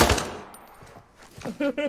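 Bursts of rapid gunfire crackle briefly amid Call of Duty game sounds, with a couple of short sharp volleys near the end, moderately loud.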